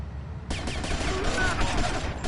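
Rapid gunfire in Grand Theft Auto: Vice City, a dense burst of overlapping shots starting abruptly and continuing to the end at moderate level.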